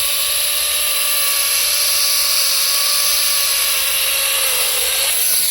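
A GTM CS18/127BL cordless electric chainsaw cuts steadily at high speed, a loud continuous whine with a slight pitch drop under load, ending abruptly as it stops.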